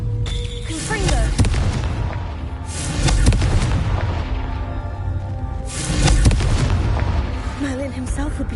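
Confringo fire-blast spell cast in the Hogwarts Legacy video game on PS5: a series of deep booming explosive bursts, one after another, with loud rumbling low blasts rising and decaying over a game soundscape.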